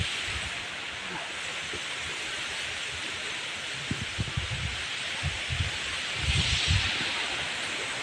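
Strong wind rushes through the leaves of a peepal tree on a farm, giving a steady broadband rustle with a few low gusty buffets, close and fairly quiet, with no voices.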